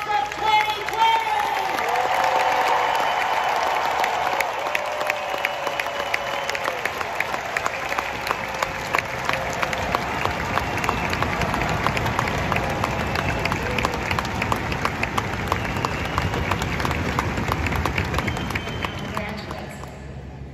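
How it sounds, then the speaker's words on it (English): A graduation crowd applauds the class of 2020, a dense sustained patter of clapping with some cheering from a large gathering, steady for about twenty seconds as a voice speaks over it near the start. "One more boisterous round of applause and congratulations to the class of 2020!"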